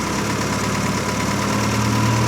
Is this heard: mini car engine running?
yes